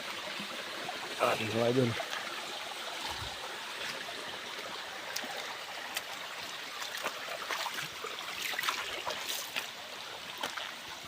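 A small creek flows with a steady, soft rushing and trickling, heard close, continuing throughout with someone briefly speaking over it.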